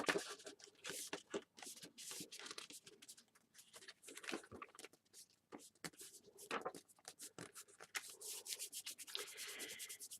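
Paper is rubbed down by hand onto double-sided tape on a small faux spellbook, giving soft, close, quiet rubbing and brushing strokes in irregular bursts.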